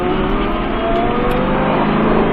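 An Aston Martin V8 Vantage accelerates hard on the Lyon race circuit, the V8 engine roaring loud and close in a steady, sustained pull with no talk over it.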